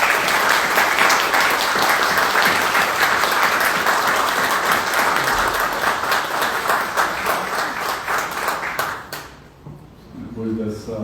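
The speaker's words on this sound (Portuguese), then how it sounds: "A única coisa que eu posso pedir é uma salva de palmas hoje." At a centenary tribute ceremony, a crowd breaks into full, loud applause that holds strong for around nine seconds before thinning out, with a voice beginning to speak at the end.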